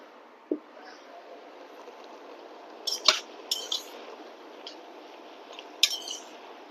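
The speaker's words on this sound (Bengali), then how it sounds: "ঢাকনাটা আমি খুলছি" A metal lid is lifted off a pot of tomato soup, giving a few sharp, close metallic clinks and a light rattle over a low, steady kitchen background.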